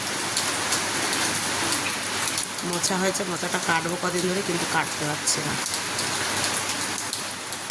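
Heavy rain pours steadily onto surfaces outside a home with a garden, a dense unbroken hiss that continues under a voice talking.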